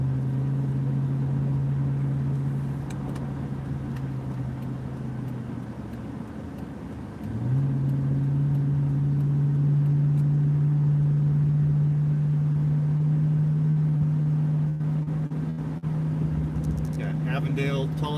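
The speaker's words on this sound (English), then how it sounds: "Show how the traffic is here in Phoenix," Car traffic on the west side of Phoenix, heard from inside a vehicle as a steady engine and road drone that dips briefly, then climbs back as it speeds up again, with some faint rattles near the end.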